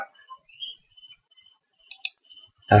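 Several light mouse clicks on a computer, sparse and fairly close, mixed with soft electronic tones, ending in a louder abrupt burst.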